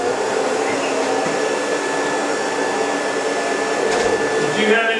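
A vacuum cleaner runs steadily on carpet as a live demonstration unfolds, a continuous broadband motor whine and airflow roar held at constant loudness for about five seconds, close and fairly loud, with no talking over it.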